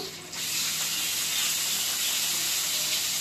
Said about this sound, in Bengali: পেঁয়াজটাকে একটু লাল করে আমি ভেজে নেব।